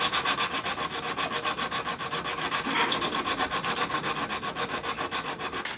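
Steady back-and-forth rubbing as a router plane blade is sharpened, a quiet rhythmic rasp of metal stroked across an abrasive surface at an even pace, close and without talk.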